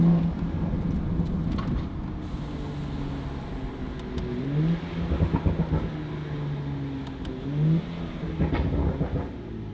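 A BMW N55 engine breathing through a Valvetronic valved sport exhaust pulls hard, its steady drone rising in pitch and dipping sharply at each gear shift, loud and close with no talk.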